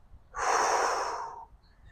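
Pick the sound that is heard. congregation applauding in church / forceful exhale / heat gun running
forceful exhale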